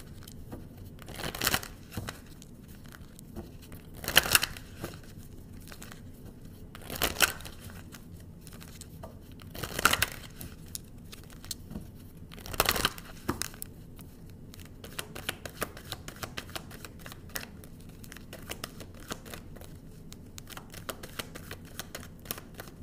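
Tarot cards being shuffled in a quiet room, a soft continuous riffling patter with several sharper bursts of card noise spaced a few seconds apart, close and alone with no talk.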